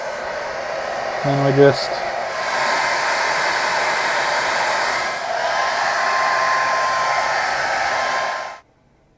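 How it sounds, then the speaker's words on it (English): A blow dryer set on hot blasts a steady, loud airy roar while heating a wood iPad wrap. It runs almost the whole time with a brief dip midway and then cuts off at the end, and a voice speaks briefly near the start. "after working it over a few times with the blow dryer"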